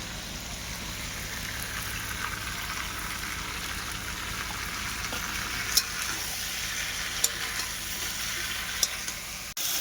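Meat being fried and stirred in a pan over a wood fire, with a steady, close sizzle running throughout and a few sharp clinks of a utensil against the pan near the end.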